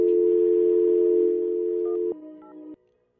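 A loud steady telephone dial tone hums on a line while a guest is being called, then drops as a few short dialing beeps sound, and the tone cuts off abruptly.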